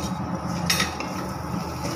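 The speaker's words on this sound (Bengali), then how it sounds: "ভালো করে একটু নাড়িয়ে নিতে হবে" Soybean curry being stirred in a pan, a spoon scraping and clinking against the metal with one sharper knock, over a low steady cooking rumble.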